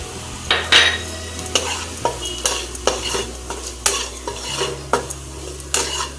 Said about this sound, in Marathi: आता याच्यामध्ये आपण हळद आणि धणाजिरा पावडर टाकणार आहोत। छान हलवून घेऊ।